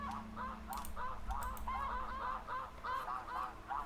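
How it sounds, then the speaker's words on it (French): Snow geese honking in the hunting game The Hunter, a steady run of overlapping nasal honks from a resting flock on ice, moderately loud and continuous with no talk. "il y avait des oies de neige posées en plus."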